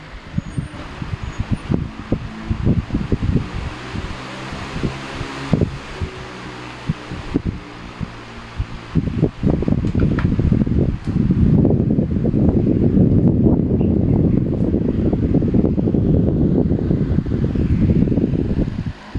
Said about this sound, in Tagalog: Buga ng hangin.